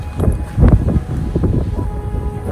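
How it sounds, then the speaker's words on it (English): Strong wind buffets the microphone in low, uneven rumbling gusts, loud and close, with no voices. "It's really windy and really cold."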